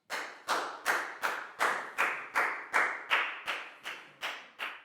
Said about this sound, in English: High five and a big round of applause for Prel, please, guys.